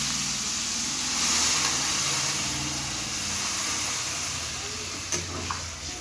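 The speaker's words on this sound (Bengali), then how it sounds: "এবার আমরা পরিমাণ মতন জল ঢেলে দেবো।" Water pours steadily into a hot pan of fish curry with potatoes, giving a continuous loud rushing hiss with a brief clink near the end.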